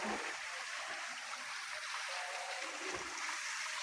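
Hot spring water flows down from above in a steady, hissing rush, even and unbroken, with faint voices in the background.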